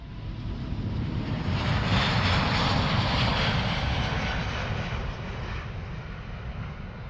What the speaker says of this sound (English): So this is the Antonov AN-225 and is currently the biggest plane in the world as of 2016.